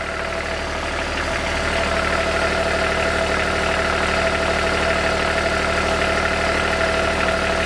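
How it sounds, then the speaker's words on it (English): A boat engine runs steadily at idle, a continuous low rumbling drone with a faint mechanical knock, close and unchanging. "There we are, engine running"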